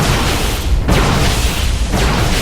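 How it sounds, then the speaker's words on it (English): A Terran factory is destroyed in StarCraft II, and a loud, sustained explosion rumbles with repeated booming bursts over about two and a half seconds. "A firework came out of that factory when it died."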